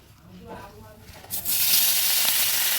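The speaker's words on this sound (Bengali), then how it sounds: "এক এক করে মাছগুলো দিয়ে ভেজে নেব।" A faint voice murmurs, then a sudden loud sizzle erupts as chapila fish hit hot oil in a wok and keep hissing steadily, close by.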